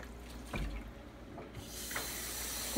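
Water runs from a tap into a mason jar holding a skein of yarn during dyeing, a soft steady pouring hiss up close with a few faint knocks and no talking.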